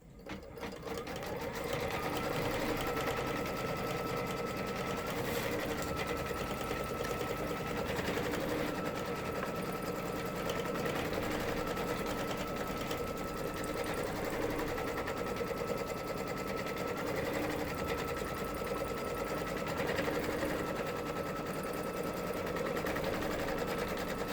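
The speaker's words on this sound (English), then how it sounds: "And we're going to stitch the next part, which is a placement stitch, or it's a tack down stitch for your batting." An embroidery sewing machine runs a tack-down placement stitch to secure batting for a lace zippered bag, a steady loud mechanical whir with a rapid needle rhythm that continues without a break throughout.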